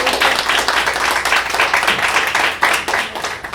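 A crowd at a town hall applauds with dense, steady clapping that holds at a fairly even level for a few seconds.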